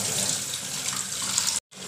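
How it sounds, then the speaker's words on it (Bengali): Tap water running steadily into a sink while a hilsa fish is rinsed, a continuous close hiss that cuts out briefly near the end. "তোমাদের মাছ ধোয়াটা দেখিয়ে দিলাম"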